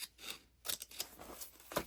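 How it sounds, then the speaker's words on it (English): Small snipping scissors cut through a paper junk-mail envelope, giving several crisp, quiet snips spaced irregularly at close range with no talking. "I'm using my small little snipping scissors."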